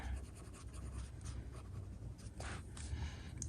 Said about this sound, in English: Crayons actually don't work too bad on this paper.